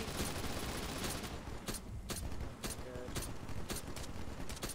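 Gunfire in an ODST video game firefight, a rapid series of sharp shots in quick bursts over constant background noise, fairly loud and close.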